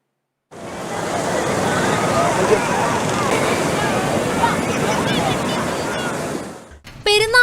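Sea surf rolls in at Ponnani beach in Malappuram, a dense, continuous roar of breaking waves mixed with wind buffeting the microphone, which fades briefly before a short burst of other noise.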